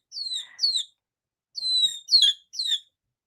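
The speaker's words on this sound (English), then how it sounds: "This is a kiki-riki rooster, and he's almost full grown." A nearly full-grown Kikiriki rooster, a tiny chicken breed, gives clear, high chirps in short pairs: two quick calls, a pause, then three more, close and isolated against silence.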